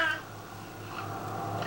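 A house cat gives a faint, drawn-out meow with a little harmonic wail. It sounds fairly quiet and close, with no talk over it.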